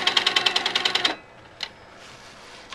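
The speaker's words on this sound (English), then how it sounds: "or I can simply stitch in this seam line right here" A sewing machine stitches a quilt seam in a fast, even burst of close needle clatter for about a second, then stops, leaving a faint click and quiet room tone.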